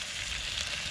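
Chilli chicken sizzles steadily in a pan on a Trangia 27 series camping cooker, a close, even frying hiss with no break and no voices.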